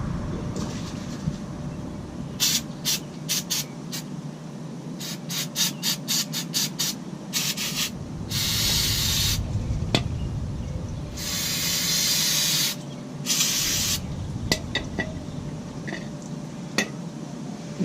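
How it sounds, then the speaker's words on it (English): Brake cleaner hisses from an aerosol can onto a 2012 Dodge Ram 1500 part, first in a string of quick short bursts, then in several longer, louder continuous sprays, all close by. "Give it a little spray with brake cleaner."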